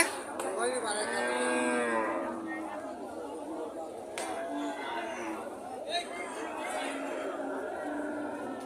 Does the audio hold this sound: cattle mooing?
yes